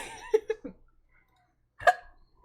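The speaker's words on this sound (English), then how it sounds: "Oh no, not the hiccups." A person's hiccups come in a quick run of three short, sharp bursts, then one louder hiccup after a pause. They are close and clear, against near silence.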